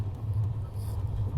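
A moving special passenger train rumbling steadily at speed, a deep low drone with slight fluctuations and faint rattles, heard from on board.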